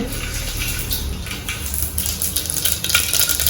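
Mustard seeds tempering in hot oil, a dense crackling sizzle with scattered pops that grows slightly busier toward the end, heard close without speech.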